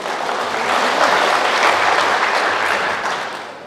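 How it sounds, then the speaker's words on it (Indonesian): A church congregation claps together in a thick, continuous burst of applause that swells, holds steady for a few seconds and then tapers off at the end. "Tepuk tangan kita tu, tepuk tangan tu,"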